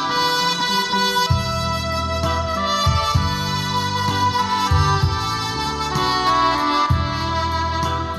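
A Yamaha S970 arranger keyboard plays a Vietnamese song with a full backing arrangement of bass, chords and melody, steady and loud throughout with no talking.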